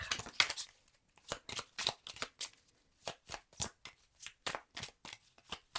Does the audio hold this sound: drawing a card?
yes